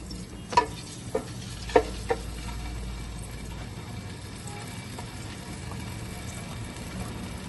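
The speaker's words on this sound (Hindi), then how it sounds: "ये जो हमने अंडे बॉईल करके रखे थे ये इसमें डाल देंगे। हल्का सा इनको जो है फ्राई करेंगे" Boiled eggs fry lightly in oil in a pan for an egg and spinach dish, a low steady sizzle with a few sharp clicks of the utensil against the pan near the start, close and quiet.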